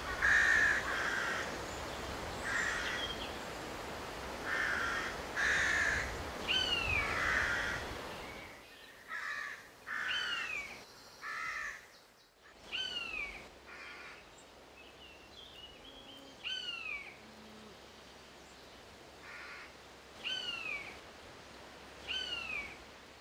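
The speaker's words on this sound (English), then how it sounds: "usually pre-warned of its arrival by the ever closer call of the parents" Buzzard parents calling near their nest in Cornwall: a series of drawn-out, downward-slurred mewing calls repeated every second or two, fairly close, over a steady outdoor background.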